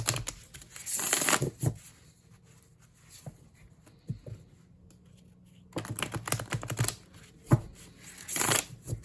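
Tarot cards shuffled overhand by hand, bursts of rapid riffling slaps and papery flicks close up, separated by quiet pauses with small taps, no talk.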